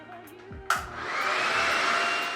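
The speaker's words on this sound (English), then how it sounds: "I'm gonna hit it off with a cold blast of air just to kind of make sure I got everything" A hair dryer switches on to blow a cold blast of air over freshly blow-dried hair, a sudden click followed by a steady, close, loud airy whoosh that holds to the end.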